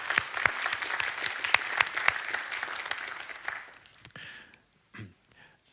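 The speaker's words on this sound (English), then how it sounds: "I would like to give a big applause to every one of you" An audience at a metaverse initiative reveal at an XR conference gives steady applause with crisp individual claps. It tapers off after about four seconds, leaving a few faint sounds.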